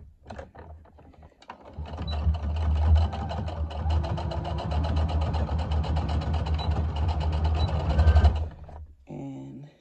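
A sewing machine chain-stitching a quarter-inch seam down the cut side of folded fabric for high-waist shorts runs as a steady mechanical whir for about seven seconds, starting after a brief pause and stopping near the end.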